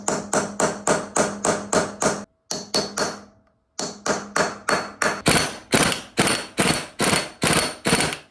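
An impact wrench hammers at the 32mm front sprocket nut on a Suzuki Savage motorcycle, loud and close: a fast series of sharp rattling bursts, briefly stopping near the middle before resuming in steady pulses to the end.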